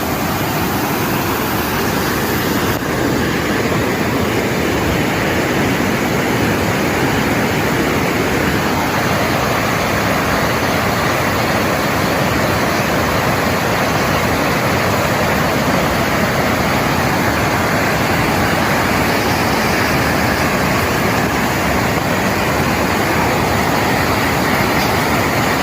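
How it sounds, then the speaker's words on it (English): Hidden waterfall deep in the forests of Munnar, a loud, steady broadband roar of falling water that runs unbroken throughout, close by and with no voices over it. "Okay, we have reached the waterfall."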